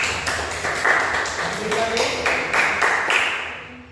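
Classroom of students applauding a group called to the front, a steady patter of many hands clapping for about four seconds, close and fairly loud, fading at the end.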